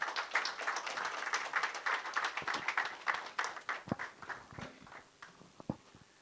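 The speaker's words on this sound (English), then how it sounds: "Please give them a round of applause." A small audience at an entrepreneurs' story session on stage claps in a brisk, fairly faint burst that thins into a few scattered claps before fading.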